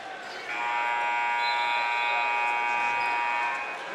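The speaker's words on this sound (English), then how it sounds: "Buzzer will sound as Levin tries to put a shot up" A buzzer ends the first quarter of a high school basketball game between Jasper and Northeast Dubois. It is one long, loud, steady electronic tone lasting about three seconds over faint arena murmur.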